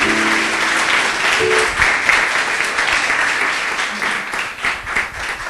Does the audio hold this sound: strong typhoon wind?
no